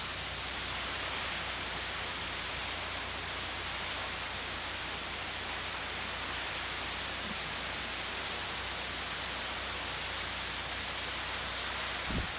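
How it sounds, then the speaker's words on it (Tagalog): A fierce windstorm with heavy rain makes a constant, full roar of gusting air and pouring water that holds steady from start to finish, ending in a brief knock. "Ganyan po katindi ang hangin mga kabantay. Pati po ulan. Ang lakas ng ulan."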